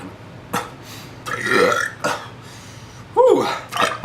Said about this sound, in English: Wait, gotta burp.